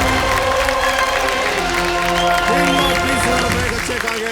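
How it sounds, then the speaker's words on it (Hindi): A studio audience on the KBC quiz show applauds and cheers steadily after a correct answer, with children in the crowd and a host's voice and tonal music running underneath. "तालियां बच्चों में जोरदार"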